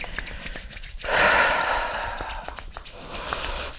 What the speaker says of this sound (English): We're gonna rub the hands, the palms together here, just creating a little energy.